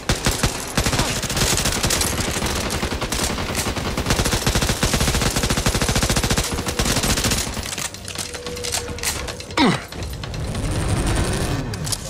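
Rapid automatic gunfire from Back 4 Blood, dense sustained bursts of shots loud and close for most of the stretch, thinning near the end into mechanical clicks and a brief whooshing sweep.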